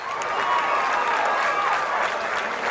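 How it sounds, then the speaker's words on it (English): A fight crowd applauds both fighters after a bout, dense sustained clapping with some crowd noise, steady and fairly loud throughout, with faint voices underneath. "can we give both of these fighters a round of applause?"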